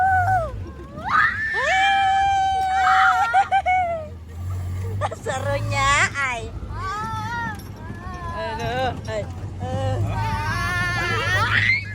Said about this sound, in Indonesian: isi video ini teriakan bocil guys